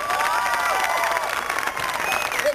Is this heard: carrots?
no